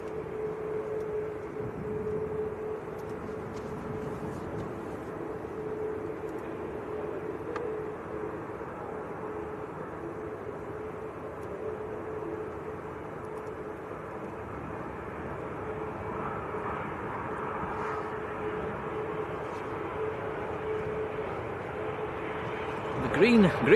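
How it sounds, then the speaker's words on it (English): A Saudi Arabian Boeing 787 Dreamliner on short final lands at Manchester Airport, giving a steady, fairly faint jet drone with a sustained tone that swells slightly near the end. "We've got the Saudi Arabian on short finals. Dreamliner from Jeddah."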